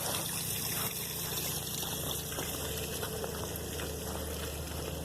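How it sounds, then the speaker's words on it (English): Water poured from a cup onto a young garden plant makes a soft, steady trickle that runs continuously and faintly for several seconds, with no voices. "I like to fill up a cup and I pour the water on it"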